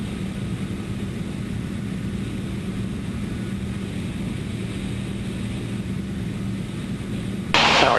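Extra aerobatic propeller airplane engine, a steady loud droning hum heard from inside the cockpit, constant throughout with a short burst of noise near the end.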